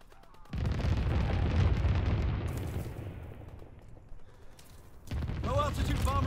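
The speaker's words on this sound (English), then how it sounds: "Low altitude bomber inbound. Incendiary mission commenced." An incendiary low-altitude bomber strike in Call of Duty roars in as a loud, sustained rumbling barrage of blasts that eases slightly, then surges again near the end, with a voice faintly present.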